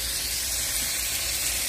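Okra frying in hot grease, a steady close-up sizzling hiss with bubbling crackle, continuous and fairly quiet, with no talking.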